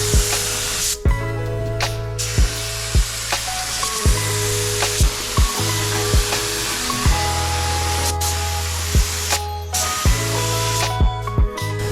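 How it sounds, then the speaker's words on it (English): Rust-Oleum color-changing chameleon metallic spray paint hisses from a can in a steady stream of bursts, with brief pauses between passes while a loud, constant music bed plays underneath. "now he's gonna go ahead and spray the whole thing"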